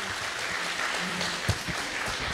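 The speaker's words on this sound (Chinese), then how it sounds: "大家给他鼓掌" An audience at a Chinese American Spring Festival gala Peking opera show gives steady, moderately quiet applause that holds evenly for a couple of seconds.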